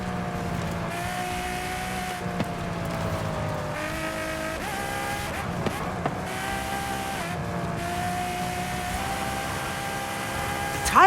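A nearly 800-horsepower rear-wheel-drive Ferrari in Forza Horizon 5 races with a steady, loud engine whine that rises and drops through gear changes, with brief tire squeal.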